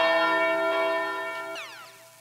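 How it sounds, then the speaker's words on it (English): A church bell sample from a UK drill beat rings out in one sustained, bright metallic strike that decays slowly, with a pitch-swept tail near the end. "a church bell,"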